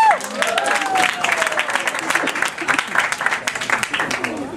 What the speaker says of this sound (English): one more round of applause for all the contestants!